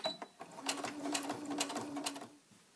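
Sewing machine back-stitching elastic into a fabric headband, a close rapid mechanical whirring in short bursts, stopping and starting, then fading near the end.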